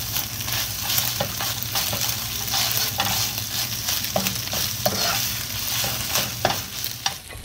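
An egg fries loudly in a hot wok while a spatula breaks it into small pieces, giving a continuous crackling sizzle punctuated by frequent sharp scrapes and taps.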